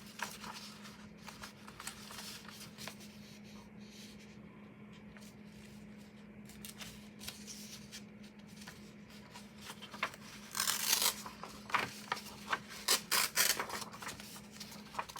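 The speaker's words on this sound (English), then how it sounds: "Hold it here and tear away." Paper being torn out of a planner, with soft intermittent ripping and crinkling that grows louder and more rapid toward the end, set over a steady low hum.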